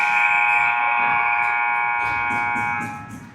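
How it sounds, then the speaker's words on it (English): A loud, sustained electronic game-end buzzer blares for about three seconds, then cuts off, with faint crowd noise beneath. "just as the buzzer sounds"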